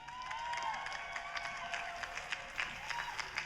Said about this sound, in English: Round of applause for my lady, the love of my life, Claressa Shields.